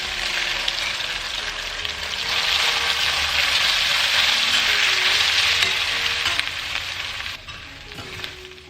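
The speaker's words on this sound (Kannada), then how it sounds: "ಈಗ ಮಿಕ್ಸ್ ಮಾಡಿಟ್ಟ ಅವಲಕ್ಕಿಯನ್ನು ಹಾಕಿ ಚೆನ್ನಾಗಿ ಸೌಂಟ್ನಲ್ಲಿ ಮಿಕ್ಸ್ ಮಾಡಿ." Flattened rice (avalakki) stir-fried in a pan with curry leaves, a steady continuous sizzle with soft scraping of stirring throughout, fairly loud and close, easing off toward the end with no talking.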